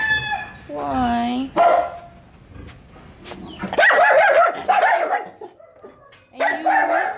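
Several dogs bark and howl up close in uneven bursts, with yips and whining sounds overlapping, loud against a quiet background.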